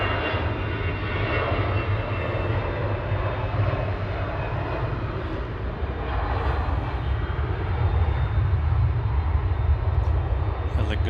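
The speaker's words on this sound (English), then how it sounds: "Departing in the background, EasyJet 22052 Verona" An EasyJet airliner departing Manchester Airport, a loud, steady roar of jet engines that swells slightly toward the end, heard from nearby.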